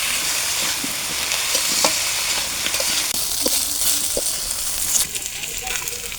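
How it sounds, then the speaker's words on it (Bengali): Raw banana pieces frying in hot oil with turmeric and salt for a tilapia curry, a dense steady sizzle with occasional soft spatula scrapes and pops, close up and without talk. "দিয়ে দেবো হলুদ গুঁড়ো, লবণ, কলাটা সুন্দর করে ভেজে নেব"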